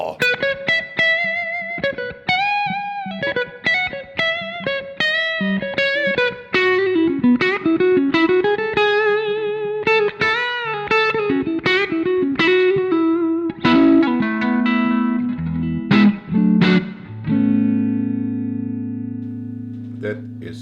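An electric guitar plays a quick run of single notes and then chords through a Boss Tone Capsule 4x10 Super combo amp model, bright and slightly driven with a touch of reverb.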